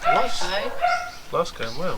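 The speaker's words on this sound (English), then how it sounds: "Sorry about the dog, he's fuming." A dog inside a converted VW Crafter camper van gives several close, whiny yips and barks in short bursts, while someone talks over it.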